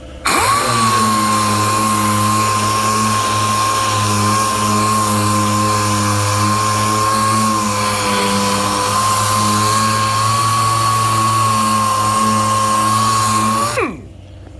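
A power sander loaded with 40 grit sandpaper works the painted body of a car, giving a steady, loud motor whine that holds for about fourteen seconds and then winds down and stops.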